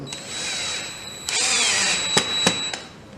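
A power drill drives screws into casters on an anvil stand, producing a steady whirring buzz broken by short stops and restarts, loud and close with no talking.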